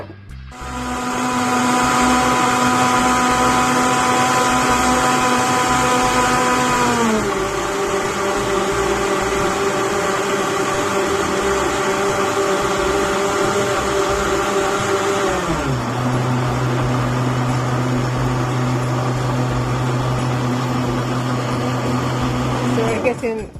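A blender running steadily and loudly for about twenty seconds while blending a beetroot and citrus juice with orange juice, its motor pitch dropping in two distinct steps as the mixture thickens, with no talk over it.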